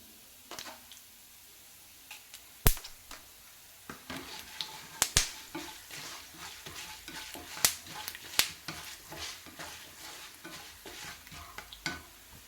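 Coriander seeds frying in a dry pan for curry leaf rice, with a low steady sizzle broken by scattered sharp pops and spatula clicks, fairly quiet and close, no talking.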